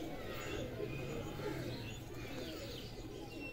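Breeder pigeon in a home loft cooing steadily and close, soft throaty coos overlapping with a few light chirps, with no talking.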